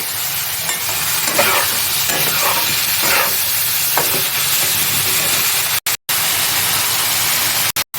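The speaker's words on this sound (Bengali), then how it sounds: "ধনে গুঁড়ো, কাশ্মীরি লঙ্কা গুঁড়ো, হলুদ গুঁড়ো আর জিরে গুঁড়ো দিয়ে দিচ্ছি। ভালো করে কষিয়ে নেব।" Ground coriander, Kashmiri chili, turmeric and cumin fry with slit green chilies and potatoes in a pan, giving a loud, steady sizzle. Stirring scrapes come through now and then, and the sound cuts out abruptly near the end.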